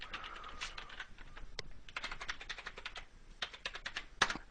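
Fingers type on a computer keyboard to enter a cPanel username and password, a quiet run of quick key clicks in short bursts with brief pauses, ending on a sharper tap.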